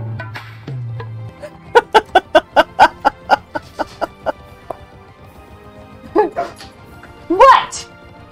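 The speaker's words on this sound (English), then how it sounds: "Did you hear him whoopering?" A dog whimpers in a quick series of about a dozen short, evenly spaced high yelps, followed later by a couple of louder whiny cries, close by in a quiet room.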